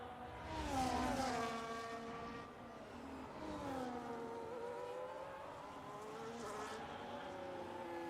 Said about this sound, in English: The 2 Ferraris side by side into turn 4.